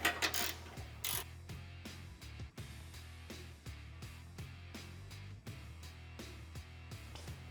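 Exhaust hanger bolts being snugged down with a ratchet during installation of a Borla Atak axle-back exhaust on a 2021 Ford Bronco: close, repeated clicking ratchet strokes and metallic taps in an even rhythm.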